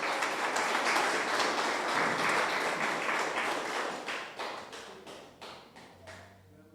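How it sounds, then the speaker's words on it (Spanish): Church congregation applauding together during a Spanish-language sermon, a dense loud burst of clapping that thins into slower scattered claps as it dies down. "Dale un aplauso al Señor porque Él se lo merece"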